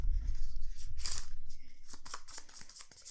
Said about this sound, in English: We shuffle them all together again